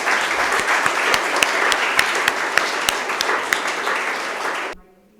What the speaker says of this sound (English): please join me in a really resounding applause